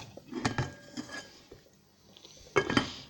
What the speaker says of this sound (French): Là, je remets mon couvercle